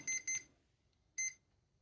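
Hobbywing QuicRun WP 1080 G2 brushed ESC giving programming beeps, two quick high electronic chirps followed after a pause by a single beep, close and clear in a quiet room.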